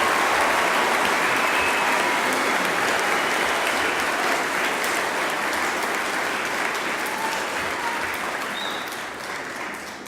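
A large audience at a school honors ceremony gives sustained, dense applause that stays loud for several seconds and then slowly fades toward the end.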